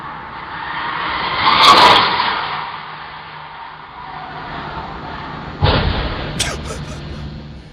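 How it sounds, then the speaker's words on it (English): A car whooshes past, then a sudden loud crash and crunch of impact as it smashes into a house, followed by a few smaller clattering hits as debris settles. "you hear the crash of her bashing through the house"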